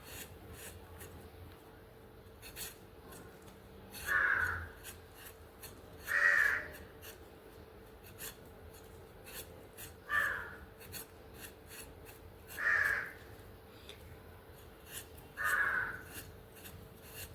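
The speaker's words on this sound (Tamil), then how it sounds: "நான் ஒரு ஒன்றரை கிலோ பொட்டேட்டோ எடுத்துருக்குறேன் அதை எல்லாத்தையும் இப்போ தோல் சீவிக்கலாம்" A peeler scrapes skins off potatoes for chips, five separate rasping strokes spaced a couple of seconds apart over a quiet background, with no talking.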